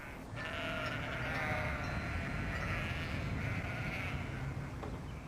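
Sheep bleat in rain-soaked winter pastures around a radar station. The calls are loud and near, with overlapping bleats running almost continuously over a rough outdoor background.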